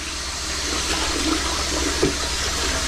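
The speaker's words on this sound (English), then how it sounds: "Give it a flush." A blocked household toilet is flushed, water rushing loudly and steadily through the bowl for the whole stretch, close up with no voices.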